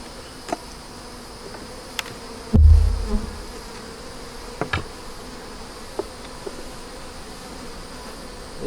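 Bees buzz faintly around an opened hive being checked for brood, a low continuous hum broken by a few sharp clicks and one heavy thump from handling the frames, no voices.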